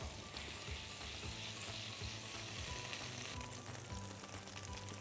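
Custard-soaked brioche for pain perdu fries gently in butter, a soft, even sizzle with faint crackles, low and continuous throughout.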